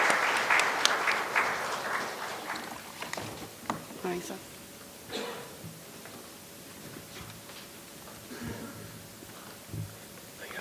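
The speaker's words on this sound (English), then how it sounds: "Let's welcome him with a huge round of applause." Audience applause welcoming a keynote speaker at a brand experience bootcamp, loud dense clapping at first that thins into scattered claps and rustling over several seconds, with some voices underneath.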